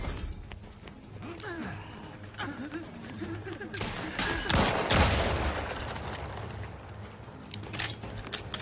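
Gunshots in a space shooter game, a quick volley of sharp cracks in the middle among busy mechanical game sounds, with people talking over it.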